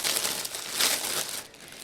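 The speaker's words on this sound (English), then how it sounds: "I'm going to take one of our BPA-free plastic bags," A BPA-free plastic bag crinkled and handled up close in a kitchen, a continuous bright rustling and crackling that swells briefly near the middle and stays loud throughout.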